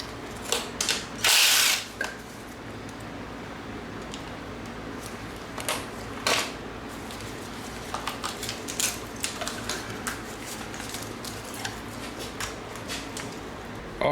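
A power tool removes the valve cover bolts on a BMW M52 engine, giving short bursts of whirring and ratcheting, one loud burst early on followed by scattered clicks and taps, close and otherwise quiet.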